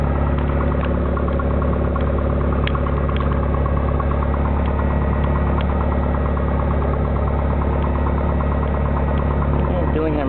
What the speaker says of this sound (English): Cherokee 809, taxiing with Bravo northeastbound.